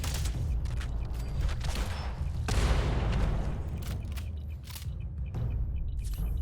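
Gunfire in the video game Fallout 76, a few sharp shots and a heavier boom over a low game ambience, fairly close with a mechanical clatter between shots.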